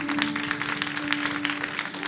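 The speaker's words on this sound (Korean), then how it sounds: "우리 같이 박수 쳐주세요." A church congregation claps together during a Sunday service, a steady, even patter of applause that runs throughout over a constant low hum.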